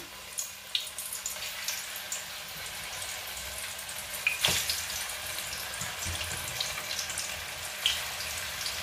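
Green plantain frying in hot oil, a steady soft crackling sizzle throughout with a few sharper pops and spatters, fairly quiet and close, with no talking.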